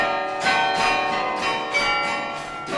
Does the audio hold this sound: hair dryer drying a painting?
no